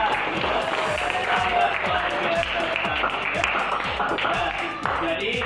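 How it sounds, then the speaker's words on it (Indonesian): A class of students claps for a classmate during a school lesson, a brisk run of rhythmic applause close by with a voice talking over it. "tepuk tangan untuk Bang Amna"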